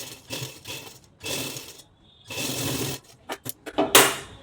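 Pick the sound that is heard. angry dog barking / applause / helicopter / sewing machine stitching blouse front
sewing machine stitching blouse front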